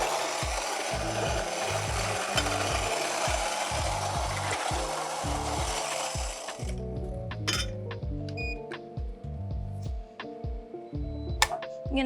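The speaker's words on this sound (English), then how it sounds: "So I'm gonna go ahead and grind my coffee." Burr grinder grinding coffee beans at a medium-fine setting for a V60 pour-over, a steady loud rasping whir for about six seconds, then stopping into scattered clicks, taps and rattles of grounds settling.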